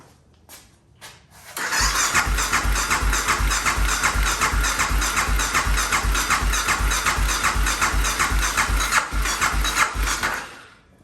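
A Can-Am DS650 ATV engine cranks over steadily on the starter for about nine seconds, a loud, rapid rhythmic chugging with no catch, preceded by a few faint clicks.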